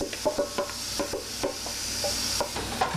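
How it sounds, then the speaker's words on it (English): Food sizzles steadily in a hot pan, a constant hiss punctuated by quick clicks and scrapes of a utensil stirring. "Oh yeah, that's sizzling."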